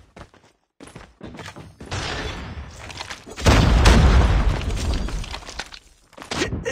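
A grenade explodes in Call of Duty, a heavy close boom bursting out after scattered gunfire and clatter, then rumbling debris fades into more shots.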